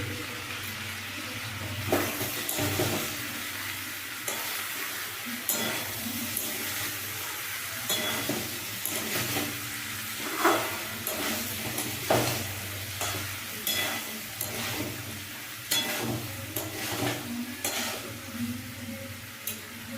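Turnip and pea sabzi being stirred in a pan, a steady sizzle with repeated scraping strokes of a spoon against the metal, close and fairly loud throughout with no talking.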